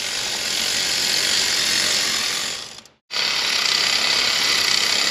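A ratchet tightens a screw on a Ford 5.4 Triton engine from an F150 or F250, a loud, dense mechanical whirring rattle that cuts out briefly midway and then resumes at full strength.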